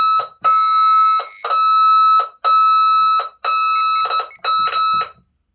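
A fire alarm panel blares a loud, piercing electronic alarm during a system test, in long repeated bursts, about five pulses with brief gaps, harsh and tonal, sounding close with no voices.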